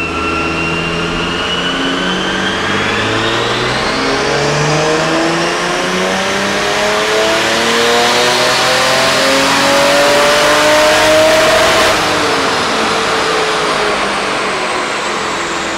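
A 2JZ-swapped Nissan 350Z roars through a dyno pull on its base run with no boost controller, a soft rev limiter cutting in near the top. The engine climbs loudly and steadily for about twelve seconds, then drops off sharply.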